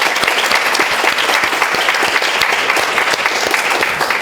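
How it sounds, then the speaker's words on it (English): An audience at a hospital all-staff meeting claps for front-line care staff, a dense, steady round of applause that stays loud and even throughout. "So just a quick round of applause for all of those at the front lines of care."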